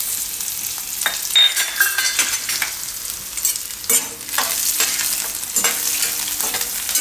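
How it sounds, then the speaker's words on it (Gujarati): Asafoetida and curry leaves sizzle steadily in hot oil for a Gujarati masala singoda snack, with a bright crackling hiss and occasional stirring scrapes throughout, no talking. "થોડીક હિંગ નાખીશું અને લીમડાના પાન."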